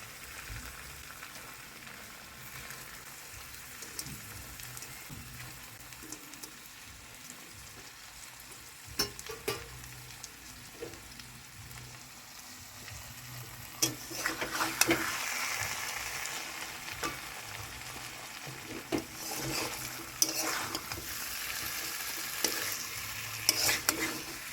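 Pointed gourd (potol) frying in a pan for a vegetarian breakfast dish, with a steady, fairly quiet sizzle and irregular scraping stirs that grow busier and louder toward the end, no voices.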